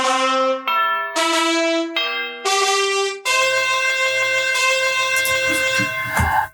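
A run of loud, ringing bell tones, one struck after another, then a sustained resonant chord with a low hum underneath.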